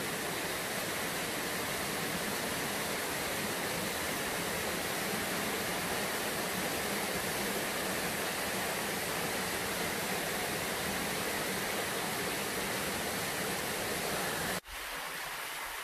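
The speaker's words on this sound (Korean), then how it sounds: "무풍 폭포 상단." Water pours over the top of Mupung Falls in a dense, steady roar of broadband rush that holds constant and close, then cuts off abruptly near the end.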